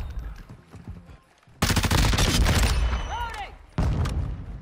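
Bursts of gunfire from Call of Duty Modern Warfare II hardpoint match with a Tempus Razorback rifle, loud dense volleys starting midway, a short pause, then another burst near the end, with other game sounds between.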